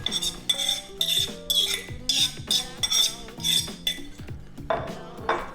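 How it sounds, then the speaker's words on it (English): A fork whisks eggs and chopped onion in a bowl for high-protein breakfast egg muffins, making rapid, bright metallic clinks against the bowl in quick rhythmic bursts, close up, with no talking. "just give this another whisk. So just to get that roughly combined with the eggs"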